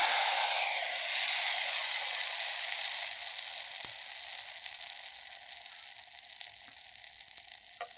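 Tempering spices sizzle and crackle in hot oil for Andhra-style coconut peanut chutney, loud at first and gradually quieting, with a few soft clinks of a utensil.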